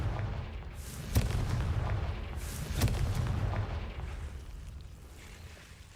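A Confringo fire spell explodes in a Harry Potter video game, heard as two heavy booming blasts over a rumbling background, the second blast a few seconds after the first, with no talking.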